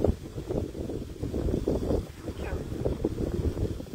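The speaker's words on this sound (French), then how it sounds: "le vent revient" Wind gusts outdoors during grilling of hummus and vegetable wraps, buffeting the microphone with a low, uneven rumbling that swells and eases across the moment.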